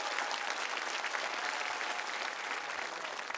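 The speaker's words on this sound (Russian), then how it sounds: "Арпи, наши аплодисменты" Studio audience at a televised singing competition final breaks into sustained applause, a thick, even roar of many clapping hands heard alone without talk.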